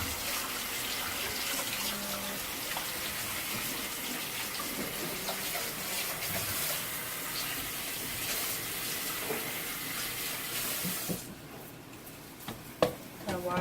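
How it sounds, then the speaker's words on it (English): Water runs steadily from a kitchen tap for handwashing during home cooking, a close, continuous hiss that stops near the end and gives way to a few soft clatters. "Now I'm gonna wash my hands."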